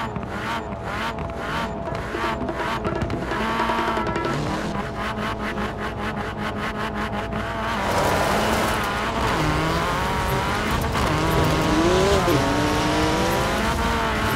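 A Ford Focus RS race car in Forza Horizon 4 roars through a race, its engine revving hard with repeated upshifts, then a rising louder stretch with tire squeal and skidding mixed in, close and continuous, no voices.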